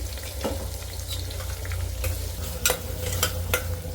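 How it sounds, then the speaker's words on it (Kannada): Pepper, cumin and coconut dry-roasting in a pan while being stirred, a low steady sizzle with scraping stirs and a few sharper clinks of utensil against the pan, close and alone. "ಈಗ ನೋಡಿ, ಮೆಣಸು, ಜೀರಿಗೆ, ತೆಂಗಿನಕಾಯಿ ಇದನ್ನು ಹುರ್ಕೊಂಡಿದ್ದನ್ನು ಈಗ ನಾನು ಹುರಿತಾ ಇದ್ದೀನಿ"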